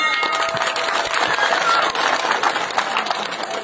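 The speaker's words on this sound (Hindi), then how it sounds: "आप सब लोगों के लिए बहुत जोरदार तालियां।" A village crowd applauds for a newly built Lord Ganesh temple during Ganesh Chaturthi, a steady wash of many hands clapping at close range throughout.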